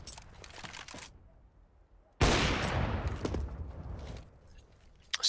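Gunfire in a CS:GO tournament match: a few scattered shots, then a sudden loud sustained burst of rapid fire that trails off, with more isolated cracks near the end.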